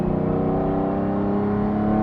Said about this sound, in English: Just listen to the noise, that Capristo exhaust